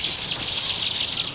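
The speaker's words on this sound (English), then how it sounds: "Biologically speaking, the village weaver is an exotic bird, as it is not endemic to Mauritius." Village weaver birds chirping and calling in a garden on Mauritius, a dense, continuous chorus of bright, busy twitters from several birds at close range, with no voices.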